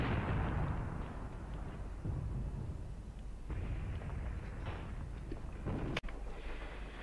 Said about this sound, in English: I think that's my own artillery